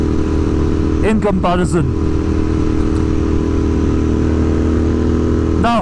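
A Royal Enfield Interceptor 650 with a Powertronic ECU drones steadily on a highway ride, its loud engine constant throughout while someone talks over it.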